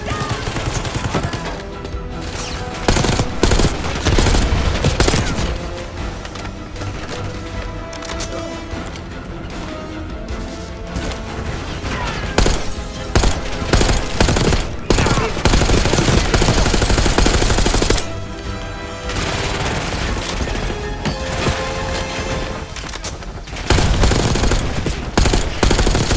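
Sustained automatic gunfire in a Call of Duty Black Ops 6 campaign firefight, loud and dense bursts of machine-gun fire and shots continuing almost throughout, with brief lulls and crashes mixed in.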